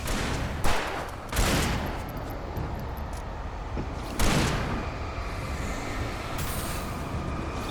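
Gunshots in Alan Wake Remastered: a few loud, sharp blasts spaced seconds apart, each with a decaying tail, over a steady tense background rumble.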